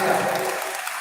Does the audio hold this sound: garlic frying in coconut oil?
no